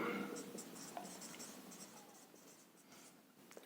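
Pen or chalk writes out a physics equation in short scratchy strokes, faint and close, with a soft background hiss and no talking over it.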